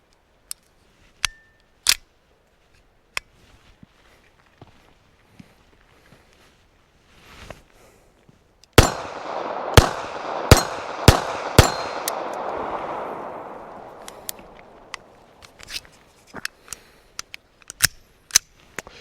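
Beretta 30X Tomcat pistol fired at a range, sharp, loud cracks, sparse at first, then a quick string of shots around the middle with lingering echo, followed by more scattered shots and mechanical clicks.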